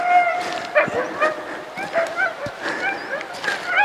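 Several sled dogs being harnessed nearby yip and bark in quick, excited bursts, with whiny yelps mixed in.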